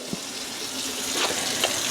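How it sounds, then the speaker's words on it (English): Water runs steadily from a tap into a sink during handwashing, a continuous close hiss and splash with small bubbling variations and no speech. "wash your hands with hot water"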